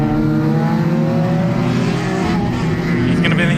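Engines of several race cars roar continuously in a NASCAR Division III enduro race, a loud dense drone of overlapping motors with varying pitch, heard from trackside.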